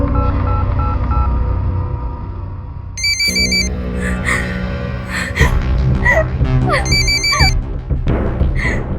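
A phone rings in repeated electronic bursts over a background of music and ambient sound, with a couple of short ring cycles close by.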